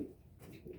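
Pigeons, including white doves, cooing softly in a loft, a faint low murmuring coo that swells briefly at the start and again near the end.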